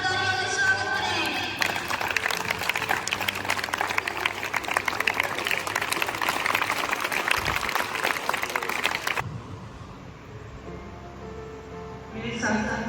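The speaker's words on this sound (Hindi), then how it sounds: "कृपया करके जोरदार तालियों से स्वागत करें" Audience applause at a Teachers' Day celebration welcomes a managing director to the stage, a dense, loud clatter of many clapping hands that swells after a man's announcement, holds steady for several seconds, then cuts off abruptly.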